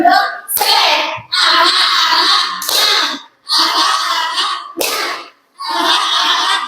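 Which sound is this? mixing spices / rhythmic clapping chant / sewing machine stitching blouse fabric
rhythmic clapping chant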